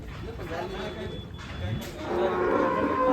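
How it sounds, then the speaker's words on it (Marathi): A champion dairy cow at a cattle show moos in a long, low, loud call that swells toward the end, with people talking in the background. "तर ही चॅम्पियन गाय कळतची."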